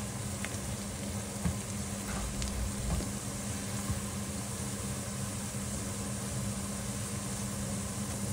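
Chopped onion frying in a pan, a steady, even sizzle with occasional soft stirring clicks, close by and unbroken for several seconds.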